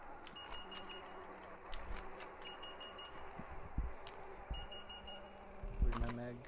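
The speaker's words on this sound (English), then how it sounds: "if you want to disable the beep, you just open the map" A warning beep in the VR shooter Into The Radius repeats in short, faint, evenly spaced tones, partly under game noise and quiet talk.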